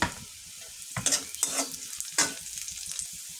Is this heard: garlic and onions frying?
yes